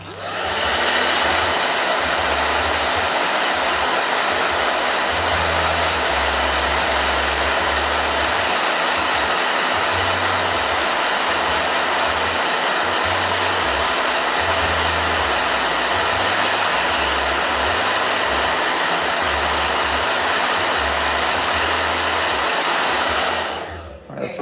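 A handheld blow dryer runs steadily at close range over a watercolor painting, a continuous loud whooshing roar that starts abruptly and stops near the end, with no talking.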